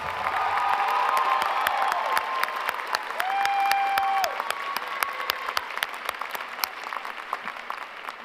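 A crowd at a Mitchell High School graduation ceremony applauds and cheers the honored graduates, steady massed clapping with a few whoops that carries on, then thins into scattered claps near the end.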